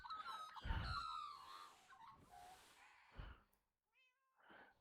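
Game-world cats in a Minecraft-style survival server let out several close, distinct meows in succession, with quieter chirpy mews and short gaps between them.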